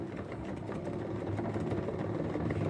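A hand-turned drying spinner whirs steadily as it spins fresh mint leaves dry, a continuous mechanical hum with a faint rattle that holds even throughout, with no talking.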